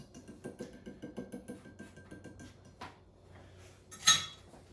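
A whisk works through melted chocolate in a bowl, rhythmic soft scraping and tapping against the sides for a few seconds, then a pause and a brighter sharp clink of metal near the end.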